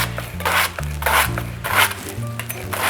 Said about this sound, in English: You can hear it cutting through like thousands of strands of fibers